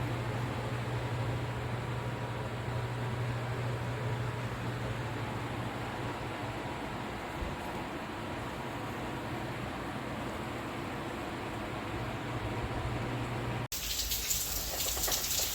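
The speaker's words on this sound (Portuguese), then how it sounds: "E aqui a chuva continua" Steady rain falling outdoors, a dense continuous hiss at even loudness that cuts abruptly to a brighter wash near the end, with no talk.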